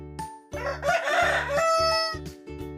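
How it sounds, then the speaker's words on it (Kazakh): A rooster crows once, loud and close, a long drawn-out cock-a-doodle-doo over a repeating bouncy music loop. "Әтеш"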